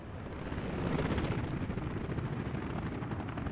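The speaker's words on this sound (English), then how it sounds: "the army of helicopters coming right through there" Army of helicopters flying in and landing in a video game city, a dense continuous rotor rumble with rapid chopping thump, loud and steady throughout.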